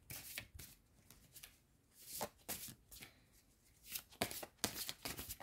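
Oracle cards being shuffled for a reading, quiet close riffling and slapping in uneven bursts, with no talking.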